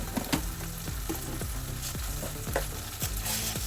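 Jackfruit curry frying in a pan, with a steady close sizzle and repeated stirring scrapes and clinks at a fairly regular pace, no voices.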